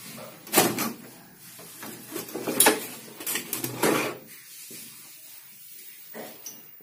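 Plastic back casing of a CRT television being opened, heard as a series of close knocks, scrapes and clatters in uneven bursts with brief pauses between.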